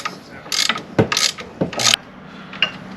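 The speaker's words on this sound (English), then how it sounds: "You just crank it, loosen it till it's off." A ratchet cranks to loosen a bolt on a Mercedes CLS63 AMG, giving bursts of rapid clicking in several separate pulls with short pauses between, close and fairly loud.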